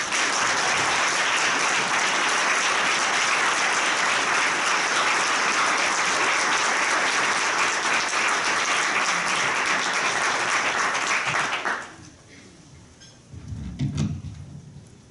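An audience applauds a speaker being welcomed at a 2016 Corpsmember of the Year event, with steady, full clapping for about twelve seconds before it stops abruptly, followed by a few faint thumps.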